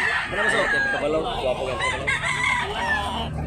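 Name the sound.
Gilmore gamecock rooster crowing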